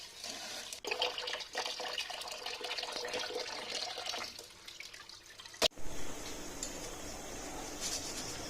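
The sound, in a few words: washing lentils and rice with water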